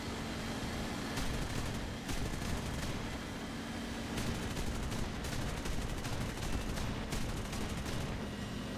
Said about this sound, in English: We're hitting him with the 50 cals.